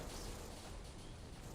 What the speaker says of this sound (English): it's a perfectly timed explosion.